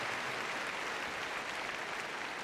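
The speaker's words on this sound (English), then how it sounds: "Give them a round of applause." Spectators applauding ringside at the Crufts obedience competition, a continuous, even patter of many hands heard from a distance, soft and steady throughout.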